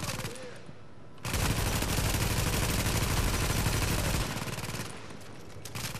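Dense, loud automatic gunfire from The Division video game fills the middle of the clip as a sustained burst of rapid shots, with quieter game ambience before and after.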